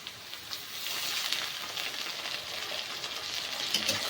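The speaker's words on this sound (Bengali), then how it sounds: "ভালো করে একটু ভেজে নেব।" Cashews and raisins fry in oil in a pan for Bengali-style fried rice, giving a soft, steady close sizzle with faint crackles and no talking.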